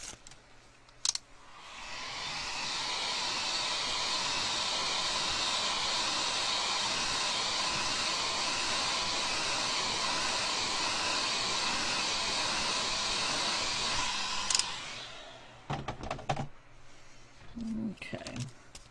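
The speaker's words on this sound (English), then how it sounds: "I'm going to hit it with the heat gun again" A heat gun blows a steady, loud airy whoosh onto a pearl swirl tumbler for roughly twelve seconds after a click on, then shuts off, followed by a few handling clicks and knocks.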